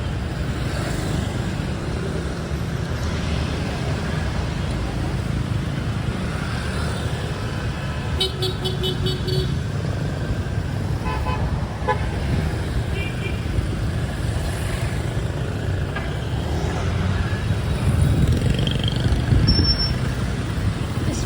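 Busy traffic streams along a major street in Ho Chi Minh City's District 4, a constant engine rumble with scattered horn toots and beeps, loud and close throughout.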